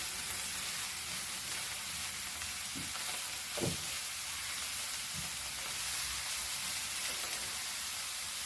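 Ginger garlic paste fries in hot oil for a Goan prawn chilli fry, giving a steady, close sizzle broken by a few soft stirring scrapes and taps in the pan.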